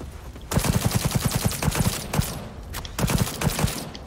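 Rapid gunfire in the video game Cyberpunk, bursts of quick automatic shots in several volleys with short pauses between them, loud and close.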